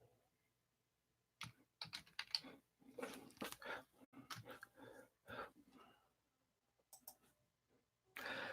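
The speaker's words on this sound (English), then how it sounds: "Let me type a welcome message." Keys on a computer keyboard are tapped in quick, irregular clusters to type a message, faint and close in a quiet room, with short pauses between bursts.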